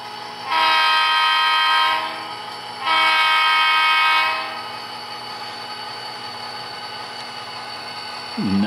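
Athearn Ready to Roll SD40-2 model locomotive in Santa Fe livery sounding on a layout: two loud sustained horn blasts, each about one and a half seconds, followed by a steady low electronic engine hum.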